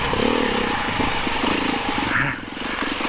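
A Beta 390 RR dirt bike engine runs with the clutch slipping, giving a loud, buzzy, steadily pulsing drone that wavers slightly and then drops in level near the end, with no talking.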